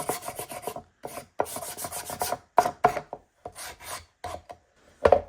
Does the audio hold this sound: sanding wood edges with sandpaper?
yes